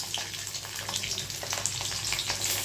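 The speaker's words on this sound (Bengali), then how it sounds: "গোটাই রসুনটা দিলাম।" Whole garlic cloves frying in hot oil with black cumin seeds, a steady close sizzle with small crackles and pops running throughout, no voices.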